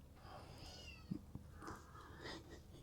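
A cat meows a few times at close range, soft drawn-out calls spread across a quiet indoor room, with a couple of small knocks in between and no speech.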